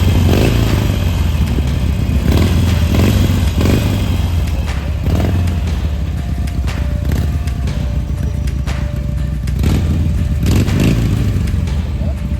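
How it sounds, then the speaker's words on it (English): A motorcycle engine revs loudly and close by on a foggy morning ride, its steady throaty drone swelling in several short blips of throttle, with people talking faintly in the background. "Rev it a little."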